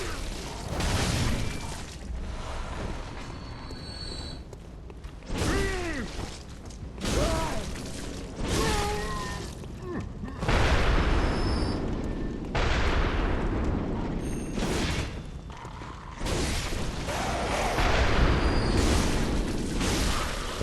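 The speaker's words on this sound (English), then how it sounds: "There's a cannon guy somewhere shooting." Cannon blasts from an enemy in the video game Bloodborne boom repeatedly at irregular intervals amid game combat noise, with heavy low-end bursts recurring through the stretch.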